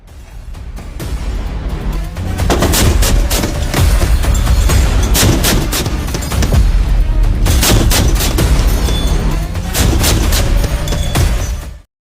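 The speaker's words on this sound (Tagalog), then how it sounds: "gamit ang 76mm Super Rapid Multi-Feed Gun ng barko, ...30mm MK-44 Smash," Naval guns on a Philippine warship fire during a live-fire exercise off Zambales, including a 76mm Super Rapid gun and a 30mm MK-44 cannon, giving loud, continuous booming bursts with rapid repeated reports over a rumbling background.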